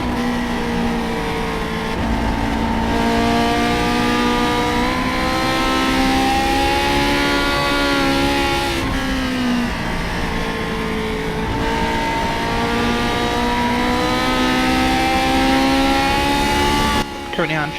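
A Lotus 49 race car in a racing video game at Indianapolis, its engine revving loud and continuous with rising and falling harmonic pitch through shifts, while a commentator talks over it.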